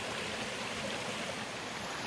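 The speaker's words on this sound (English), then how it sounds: "It crosses the Thru-Hike Creek" A creek crossing the Appalachian Trail rushes steadily nearby, a dense continuous wash of flowing water with no pauses.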